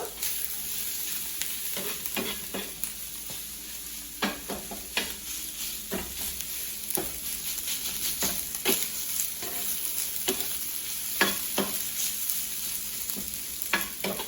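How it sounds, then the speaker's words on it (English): Food being scooped and stirred together in a sizzling pan, repeated scraping knocks of a utensil over a constant frying hiss, fairly close. "I'm just going to use my scooper and just scoop this all in together"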